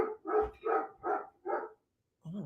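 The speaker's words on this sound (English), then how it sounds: "Let's see what my dog is barking at." A dog barks five times in quick rhythmic succession at moderate distance, then after a brief silence lets out one more bark.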